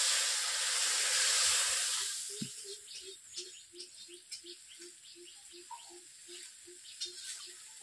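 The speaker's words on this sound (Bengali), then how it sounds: "এরপর জল দিয়ে দিচ্ছি।" Water poured into a hot pan while cooking pangas fish: an initial loud hissing rush of steam that quickly dies down into soft, regular bubbling pops and faint sizzle.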